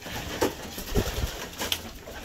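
Pigeons inside a breeding loft, low soft coos repeating in a loose rhythm, several birds close by with a bit of rustling and fluttering between calls.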